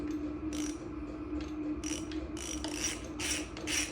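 Ratchet wrench loosening a BMX crank bolt on the bottom bracket, a series of quick metallic clicking bursts in an uneven rhythm over a steady low hum, close and distinct.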